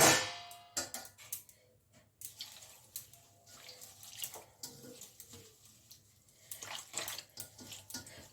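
Water splashes and trickles as drumstick leaves are rinsed by hand, with irregular sloshing bursts, drips and a light clank of a vessel, close and fairly quiet, with no one talking.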